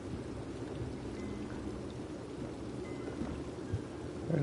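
Rain in the video game Elder Scrolls Online, a soft continuous patter with low rumbling underneath, steady and fairly quiet throughout.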